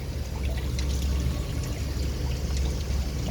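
The pressure pump of a reverse-osmosis water system runs close by, giving a continuous loud rushing, watery hum with no breaks.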